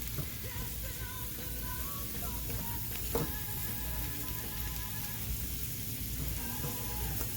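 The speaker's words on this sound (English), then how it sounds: "we'll just give this a few more minutes in the pan to heat up there" A Reuben sandwich heats in a pan, giving a steady, soft sizzle and crackle that runs throughout without talk.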